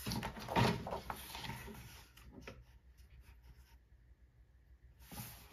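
A paper trimmer slices through craft paper with a scraping, ratcheting pass of the blade, loudest at the start, followed by lighter clicks and rustling and a short quiet pause before another soft scrape, all close by.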